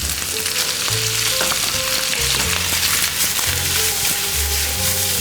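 Chicken gizzards fry loudly in a hot pan for pancit canton, a constant close sizzle with stirring scrapes and low thumps running continuously.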